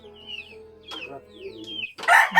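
Chickens cluck and call at a home in the Philippines, several short bursts close by, ending in a louder, harsher squawk.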